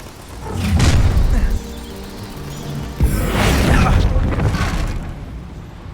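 A Bombarda blasting spell explosion in the Hogwarts Legacy video game, two loud booming bursts about two seconds apart, each trailing off into rumbling debris and game ambience.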